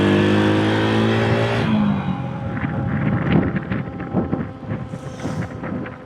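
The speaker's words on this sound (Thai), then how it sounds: "เสียงล้อรถน้องมันก็ดังหูเนาะ" Loud road rumble from a motorbike's wheels rolling along a rural road, with steady wind buffeting and a droning engine; no one talks.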